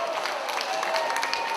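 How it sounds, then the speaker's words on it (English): Brief, moderate applause from an audience at a Mardi Gras production, a soft patter of clapping with crowd murmur. "let's give each one of them a round of applause when he mentions their name"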